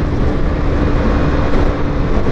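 A loud, steady engine drone with constant wind rush from a 125cc motorcycle at cruising speed, unbroken for the whole stretch.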